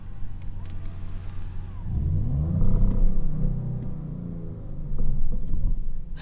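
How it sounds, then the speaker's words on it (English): Sport exhaust of a 2023 Audi S6 in dynamic mode rumbles at idle, then swells through two rising revs with a brief settle between, heard close and clear with no one speaking. "Take a listen to the sport exhaust."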